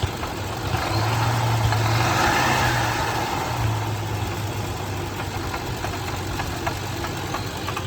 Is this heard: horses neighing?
no